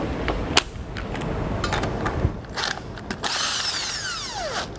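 Lug nuts spun off trailer wheels on a 2022 Grand Design Imagine with an impact tool, a loud close whirring rattle broken by sharp clicks and clanks, ending in a rising metallic whine.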